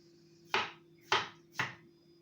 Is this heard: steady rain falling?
no